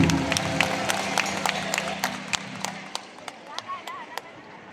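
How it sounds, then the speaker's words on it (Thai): Scattered hand claps from a small group at a concert in Nonthaburi, Thailand, a brief patter of applause that thins out into a few isolated claps, with a low murmur underneath. "ปรบมือหนึ่งนะครับ"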